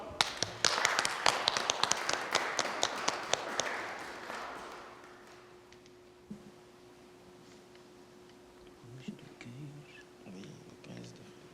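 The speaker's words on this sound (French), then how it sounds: "On l'applaudit." A small congregation claps at a Sunday Mass after someone swears an oath and signs. The brisk, scattered clapping lasts about four seconds and then thins out, leaving a quiet room with a faint steady hum and a few soft murmurs.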